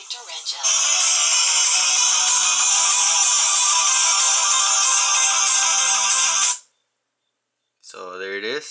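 An incoming call ringtone sounds from a phone paired with a Galaxy Gear, a loud sustained melodic ring lasting several seconds before cutting off, then a voice briefly speaks.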